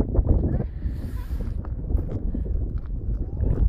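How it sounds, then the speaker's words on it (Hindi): Strong wind blowing across a cold mountain area buffets the microphone in loud, uneven rumbling gusts that roar continuously from start to finish, with no other sounds standing out. "बहुत ही ज़्यादा तेज हवा चल रही है और बहुत ज़्यादा ठंड है यहाँ पे।"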